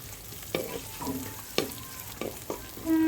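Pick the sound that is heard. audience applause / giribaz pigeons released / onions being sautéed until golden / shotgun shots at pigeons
onions being sautéed until golden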